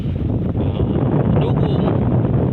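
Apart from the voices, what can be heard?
wind blowing by the water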